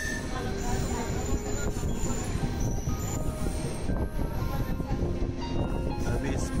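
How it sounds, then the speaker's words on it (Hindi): A train on the Gandhidham to Bhuj line rolls steadily into the platform at Anjar station in Gujarat, with a continuous rumble of wheels and carriage noise, fairly close and even in level. "अभी इस प्लेटफॉर्म पे पहुंच रही है गाड़ी, रुकेगी अभी यहाँ पर और फिर आगे चलेंगे।"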